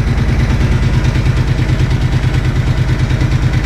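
Motorcycle engine idling at about 1140 rpm during a regulator test with an RM stator, a loud, steady, close-up mechanical pulsing with a rapid even beat and no voices.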